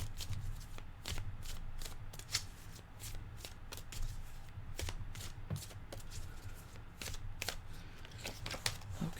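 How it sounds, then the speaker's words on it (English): Tarot cards being shuffled by hand, a close series of crisp riffling flutters and soft slaps repeating through the whole stretch, with no voice. "I'll be pulling 3 cards for Cancer."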